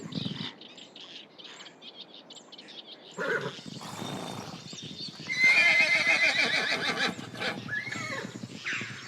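Wild horses in the Danube floodplain whinny and neigh loudly, with hooves clip-clopping and birds chirping in the background.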